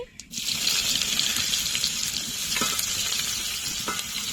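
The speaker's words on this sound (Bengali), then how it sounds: "পেঁয়াজ আর টমেটো ভালো করে ভেজে নেব" Chopped onion and tomato frying in a pan with chopped cumin, giving a dense, continuous close sizzle and crackle after a brief quiet start, with a few faint utensil knocks.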